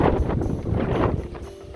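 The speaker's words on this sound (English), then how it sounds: "Wind's picking up." Strong gusting wind during a tornado-producing storm buffets the microphone outdoors, roaring in surges that swell and ease over less than two seconds, with no voices.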